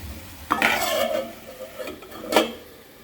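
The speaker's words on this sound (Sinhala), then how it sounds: "මේක පොඩ්ඩක් ඇරලා විටින් විට හැඳි ගා ගන්න" Snake gourd curry being stirred in a pan, several scraping, clattering strokes of a spoon against the pan, close and fairly loud, with a faint sizzle underneath and no talk.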